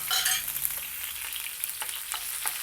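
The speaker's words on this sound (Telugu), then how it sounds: "మనం తరిగి పెట్టుకున్న పచ్చిమిరపకాయలు వెల్లుల్లిపాయలు వేసి వేయించుకోవాలి" Chopped green chillies and garlic frying in a pan for palak curry, a steady close sizzle with light stirring scrapes and no voices.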